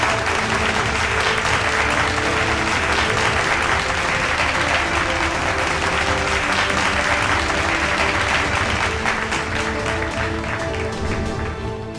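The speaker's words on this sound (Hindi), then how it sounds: "तो देवियों और सज्जनों, जोरदार तालियां हो जाए नितिन गडकरी जी के लिए।" A large audience at an aviation event applauds Union Minister Nitin Gadkari, a dense, loud, continuous wash of clapping that holds steady for about twelve seconds before easing slightly at the end.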